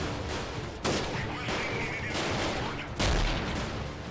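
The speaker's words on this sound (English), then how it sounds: "Gonna have to lay down some suppressing fire" Bursts of suppressing gunfire in the combat game Freeman Guerrilla Warfare, loud rapid volleys in repeated clusters with sharp onsets, heard alone without talk.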